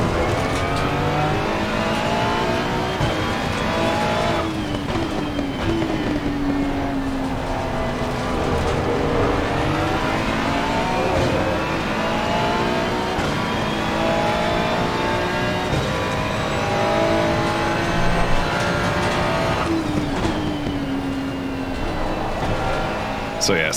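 A 2.9-liter twin-turbo V6 Ferrari race car in the Assetto Corsa Competizione game, its engine revving up and down through gear changes in repeated loud sweeps, with a voice talking over it.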